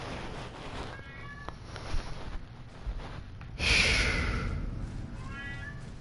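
A pet cat gives several meows of varying length in the background, over steady room hum, followed by a louder breathy snort or hiss.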